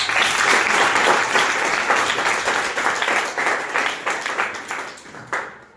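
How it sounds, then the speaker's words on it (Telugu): Audience applause at a school event where exam fees were paid for 10th class students at a ZP High School, a dense steady clapping that stays loud and then thins and fades toward the end. "ముందుకు వచ్చిన ఒకసారి మనము అందరూ చప్పట్లతో తెలియజేయాలి"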